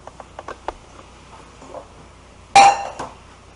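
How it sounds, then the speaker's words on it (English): A cooking pot is picked up and set down on a kitchen counter while mango jam is being made: a few light clinks, then a single louder metallic clunk, with no talk. "take your pot, put that in there"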